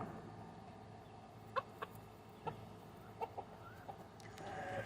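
A few short chicken clucks sound at intervals against quiet farmyard background noise, with no talking.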